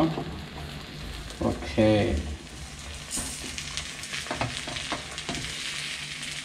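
Stirring the edges of an Afghani omelette in a non-stick pan, with steady sizzling and a few scraping strokes against the pan, while a person speaks briefly near the start.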